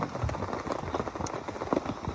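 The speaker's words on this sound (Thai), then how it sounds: "คืนที่สองนี่ฝนตกหนักนะทุกคนเนาะ" Heavy rain falls in a forest, a steady close patter of drops striking surfaces with uneven bursts, moderately quiet and without voices.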